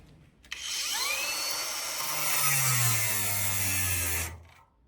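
A Dnipro-M cordless angle grinder with a new disc spins up and cuts, a loud steady high whine with a rising then falling pitch for about four seconds before stopping abruptly.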